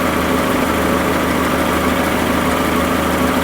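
Car engine idling steadily after an oil leak repair on the return pipe, a loud, even low rumble with constant vibration throughout and no pauses.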